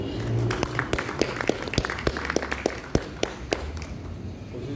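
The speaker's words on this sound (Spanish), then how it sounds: "un fuerte aplauso, por favor." A small audience at a book fair presentation claps sparsely and unevenly. Distinct individual claps ring out over a soft room background and thin out toward the end.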